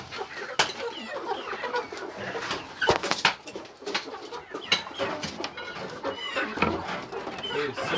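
Young chicks in a Romanian backyard coop, chirping and cheeping in busy overlapping calls, with a few sharp knocks and rustles and some faint voices in the background.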